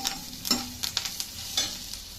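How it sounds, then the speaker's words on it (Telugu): Cumin, black pepper and curry leaf powders sizzle in hot oil in a pan for tomato-tamarind rasam, a steady close frying hiss broken by sharp scrapes of stirring. "చూడండి బాగా వేగుతుంది కదా"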